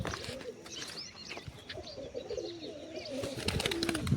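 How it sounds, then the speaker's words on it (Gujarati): Pigeons cooing inside their pigeon enclosure: soft, low repeated coos from several birds with occasional chirps and rustling, close, over a faint background murmur. "જોઈ શકો છો આ બધા કબૂતર સેટઅપની અંદર જાય છે ધીમે ધીમે"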